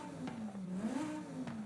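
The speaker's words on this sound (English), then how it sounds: "We'll go with the V10, which does sound beautiful" A V10 engine fitted to a DeLorean DMC12 in Forza Horizon 5 revs steadily, its pitch rising and falling in a smooth, continuous drone, fairly quiet and alone.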